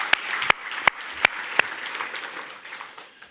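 Applause at a Texas high school football Hall of Fame induction ceremony comes as a few sharp, loud claps followed by softer, scattered clapping that fades out.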